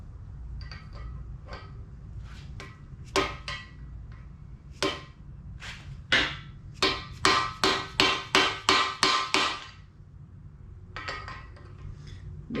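Hammer blows on a balance shaft bearing inside a 7-bolt 4G63 engine block: scattered single taps, then a quick run of about ten sharp metallic strikes in steady rhythm, close and moderately loud, trailing off into a few lighter taps.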